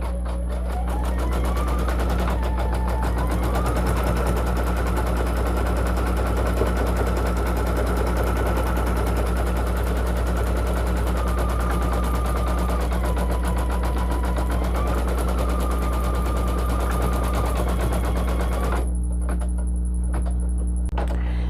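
A single needle embroidery machine stitching an applique onto a sweatshirt, a loud, rapid mechanical rattle that runs continuously with a shifting whine as the stitching moves, then stops abruptly near the end.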